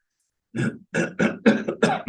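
A person clears their throat in a short series of rough, guttural rasps, close and fairly loud, with no speech.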